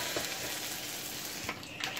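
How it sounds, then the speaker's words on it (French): A Spanish omelette sliding from a plate into a hot frying pan, giving a close, steady sizzle with a few soft scraping clicks, heard alone. "je vais la faire glisser délicatement dans la poêle"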